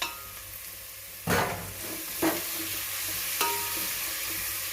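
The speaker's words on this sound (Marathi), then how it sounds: "आतां भितर घालपाची सुंगटां आनी सुंगटां मातशी भितर बरी करून फ्राय करपाची." Prawns frying in a pan with browned onion and turmeric for a Goa-style curry, a constant close sizzle broken by three distinct stirring scrapes, each a short loud sweep over the hiss.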